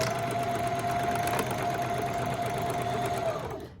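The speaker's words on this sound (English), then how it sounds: "We are going to backstitch." A sewing machine backstitches through tote bag fabric, its rapid, steady mechanical whirr running close and continuous for several seconds before winding down to a stop.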